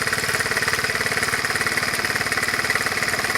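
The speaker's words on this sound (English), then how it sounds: "Let it idle for a while. And get it hot enough, we'll get that oil out of there." A 1984 Honda Z50R motorcycle engine idles steadily up close, a rapid, even mechanical chatter with a constant loud drone and no pauses or voices.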